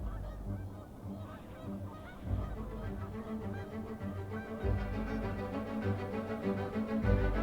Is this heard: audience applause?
no